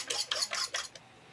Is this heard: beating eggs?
yes